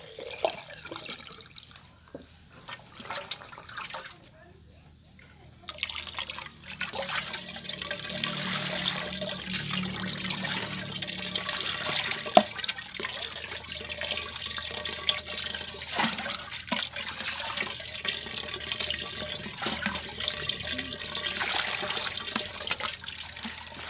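Water runs and splashes as ingredients for vegetarian pork roll are rinsed, with a quieter stretch before a steady stream from the tap resumes and continues with light splashing and dripping.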